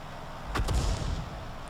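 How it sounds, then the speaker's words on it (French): Artillery fire in a video game lands as a single deep boom with a sharp crack, rising out of a quiet low rumble and fading over about half a second. "Oula, encore un tir d'artillerie."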